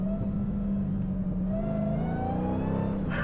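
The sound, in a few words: Dodge Challenger SRT Demon 170 engine downshifting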